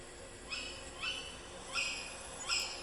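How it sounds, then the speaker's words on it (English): A screech owl gives four short, faint, high calls spaced about half a second to a second apart against a soft, steady background hiss. "Screech owl."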